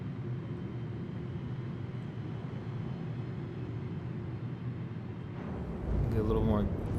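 Star Citizen spaceship engine humming at a steady low drone while descending and easing off throttle, faint and even, with a brief swelling whoosh near the end as a voice talks over it.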